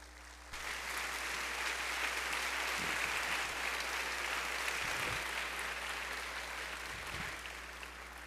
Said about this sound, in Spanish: Lo recibimos con un cariñoso aplauso.